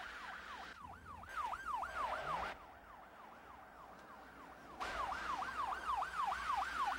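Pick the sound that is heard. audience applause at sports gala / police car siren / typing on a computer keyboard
police car siren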